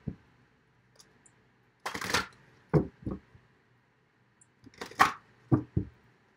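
Tarot cards being shuffled and drawn: scattered close papery snaps, slides and flicks come in small clusters separated by quiet pauses.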